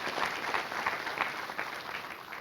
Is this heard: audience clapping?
yes